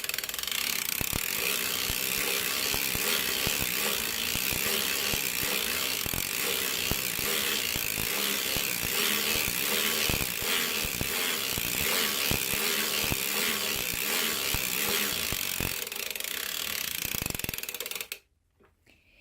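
A hand-cranked circular sock knitting machine turns steadily round and round, giving a continuous close mechanical ratcheting with regular clicks for about eighteen seconds before stopping abruptly.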